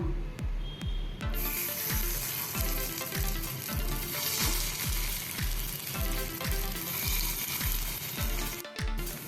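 Cheesy corn balls sizzle in a hot oiled appe pan, a steady close frying hiss with regular faint clicks underneath, running unbroken for about nine seconds.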